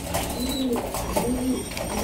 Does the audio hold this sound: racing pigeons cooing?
yes